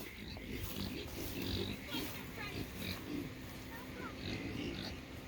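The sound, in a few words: KuneKune pigs grunting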